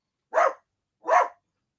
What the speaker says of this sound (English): There's my dog going off.